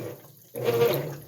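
A GE belt-drive washing machine begins agitating, a steady churning slosh of water rising abruptly after a quieter filling moment and continuing at close range, with no talk over it.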